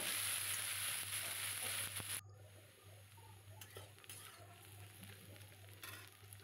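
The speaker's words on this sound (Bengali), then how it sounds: "এবার পেঁয়াজ কুচি দিচ্ছি। এবার একটু ভালো করে নেড়ে নেব।" Chopped onion, added after garlic, hits a pan with a loud sizzle that drops to a quieter frying hiss with a few stirring taps.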